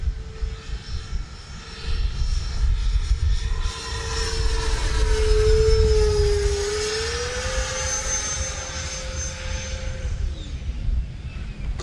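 A Freewing F/A-18C Blue Angels 90mm electric ducted-fan RC jet making a fast inverted pass, its steady whine rising in pitch and loudness as it approaches, peaking overhead, then shifting lower as it pulls away, with outdoor wind rumble underneath.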